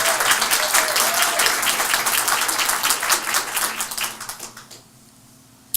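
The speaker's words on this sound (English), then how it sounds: "Give her a round of applause." A luncheon crowd at a volunteer attorney program event gives dense, sustained applause for several seconds, many hands clapping close together, then it thins out and fades near the end.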